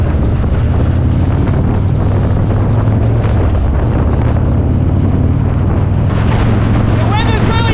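Strong wind buffets the microphone in a loud, continuous roaring rumble, with a brief high chirping sound near the end.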